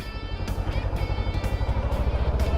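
A motorcycle engine being blipped repeatedly, throttle opened and released in quick succession, producing a close, pulsing run of short revs over a low idle rumble.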